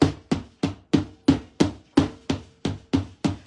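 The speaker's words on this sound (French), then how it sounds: "Je tapote" A Tupperware container filled with frozen nougat mixture is tapped on a surface eleven times in a quick, even rhythm, each knock a sharp hollow thud that fades fast, close and alone.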